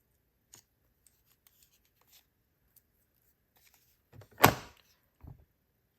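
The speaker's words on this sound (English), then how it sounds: "take my scissors and cut right on those lines to make our little banner" Scissors snip through paper while cutting along printed lines for a small scrapbook banner, one close, crisp cut burst standing out in a quiet room after a few faint ticks.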